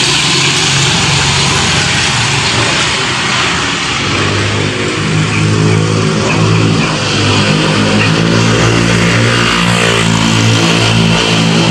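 Vehicles passing on a roadside near a ship-shaped rock formation, a continuous loud engine roar with a rising, revving pass midway as a motor vehicle goes by close to the microphone.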